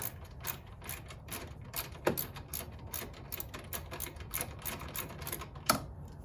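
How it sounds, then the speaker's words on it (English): A socket wrench ratchet clicks in quick, steady runs while loosening a bolt on a Jeep Wrangler JK, close and fairly quiet, with a couple of sharper metallic knocks. "socket and we're going to loosen that just enough to slide this in there"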